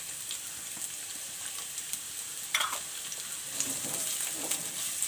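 Onion frying in oil with garlic in a pan, a continuous close sizzle with a sharp burst as the onion hits the oil, then steady crackling with small stirring clatters.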